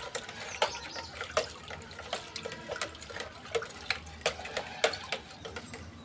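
Epsom salt being stirred into a container of water for repotting a green chrysanthemum, giving a steady run of small splashing, clinking strokes in an even rhythm, close by with no talk.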